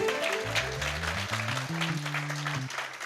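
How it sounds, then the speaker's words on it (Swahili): Church congregation clapping for the Lord, a dense wash of close applause mixed with a keyboard playing a rising run of sustained low chords. "Hebu tupigie Bwana makofi."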